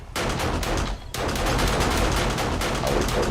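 Rapid, dense gunfire in the zombie survival game 7 Days To Die, loud and continuous, with a brief near-silent gap about a second in before the shooting resumes as a sustained fusillade.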